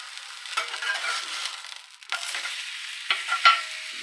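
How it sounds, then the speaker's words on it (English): A thick two-inch sous vide T-bone steak sears in a hot pan, a steady close sizzle broken by a few sharp crackles and shifts as the meat is moved. "Get a good sear on there."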